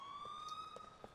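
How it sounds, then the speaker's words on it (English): An ambulance siren in the GTA IV video game wails faintly at a distance, a thin steady electronic tone sustained across the moment with light background game noise. "No, it's an ambulance."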